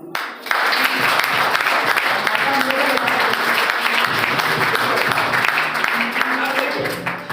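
An audience at a marketing meeting claps in a loud, dense burst of applause that starts abruptly and carries on steadily for several seconds, with a voice faintly heard underneath.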